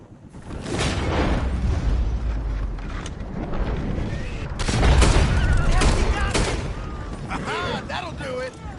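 Gunshots in Red Dead Redemption 2, with loud repeated shots and booming blasts over rumbling game noise and a thundering vehicle, while voices talk and shout through much of it.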